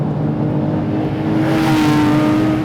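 A Porsche 911 GT3 flat-six engine revs hard toward 9,000 RPM and climbs steadily in pitch, loud and close, with a continuous roaring drone.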